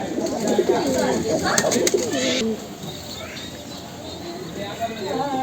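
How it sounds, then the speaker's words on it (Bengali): A male silver-pattern pigeon coos in a loft, its low repeated calls mixed with someone talking nearby and light rustling. "এটা হচ্ছে একটা সিলভার প্যাটার্নের নর কবুতর।"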